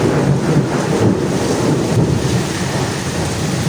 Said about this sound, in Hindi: طوفانی بارش ہے، طوفانی بارش